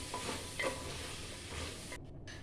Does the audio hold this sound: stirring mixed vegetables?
yes